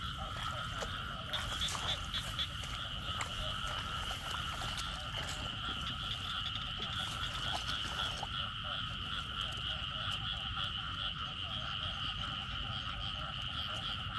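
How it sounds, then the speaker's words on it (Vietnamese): A big frog croaks steadily at night in rural southern Vietnam, its calls repeating close by over a dense, unbroken chorus of frogs and insects that fills the whole stretch. "Con ếch bự nằm."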